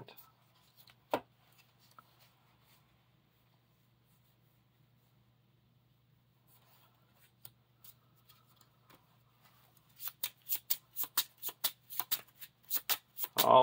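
A deck of cards for the Lord of the Rings card game is handled in a quiet room. A few faint taps and slides come first, then a quick burst of crisp riffle-shuffle snaps near the end.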